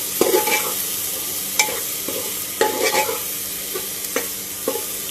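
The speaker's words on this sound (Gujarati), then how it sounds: "હવે 1-2 મિનિટ માટે સરસ ટામેટાને થવા દેવાના, શેકાવા દેવાના।" Salted tomatoes sauté in a pan for pea pulao, sizzling softly beneath repeated scraping stirs that come every second or so, close and fairly loud.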